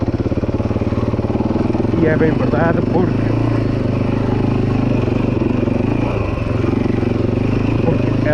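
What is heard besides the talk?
Husaberg motorcycle engine running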